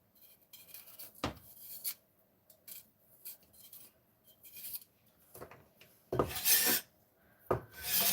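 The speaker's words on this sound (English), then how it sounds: "So I have to wash it and grate it." Fresh ginger root being grated by hand in a kitchen: quiet, close rasping scrapes come in short irregular strokes with soft pauses, then a few louder, harsher passes near the end.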